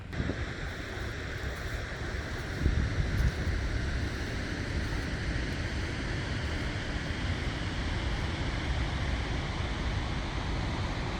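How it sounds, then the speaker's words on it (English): A waterfall in South Iceland roars as a steady, broadband wash of falling water, loud and continuous without a break, with some wind buffeting the microphone. "the waterfall is right there"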